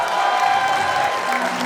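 A Trivandrum audience at the Padmatheertham 2025 event claps together in a short, dense burst of applause with faint crowd noise.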